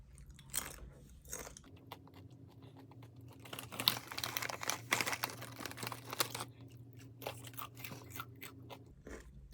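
Close, crisp crunching and chewing of crunchy snacks, with irregular loud bites and crackles over a low steady hum and a few quieter gaps.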